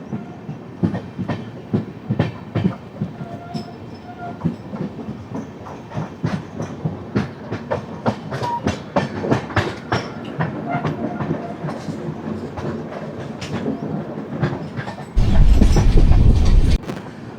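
Ajmer Ernakulam Marusagar Express, train 12978, running along the main line, its wheels giving a steady rhythmic clickety-clack over the rail joints with no talk, then a louder, heavier rumble swelling near the end.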